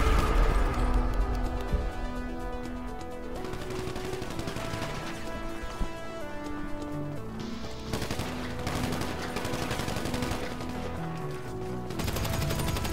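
Rapid gunfire in GTA 5 team deathmatch, bursts of automatic shots crackling over game sounds and a synth music bed, moderately loud and sustained, no voices.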